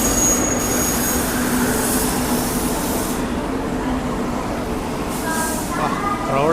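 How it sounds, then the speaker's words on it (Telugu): Vivek Express train at Ongole station, a steady loud rumble of rolling railcars with occasional squeals, and voices talking nearby. "అక్కడ ట్రైన్ ఉంది కదా, ఏ ట్రైన్ తెలుస్తుంది, వివేక్ ఎక్స్ప్రెస్ ట్రైన్ ఇది"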